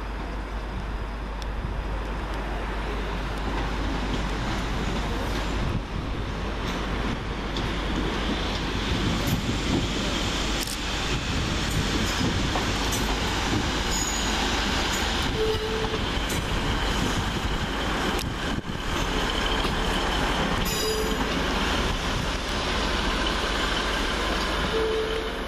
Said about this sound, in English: Here comes our train out of here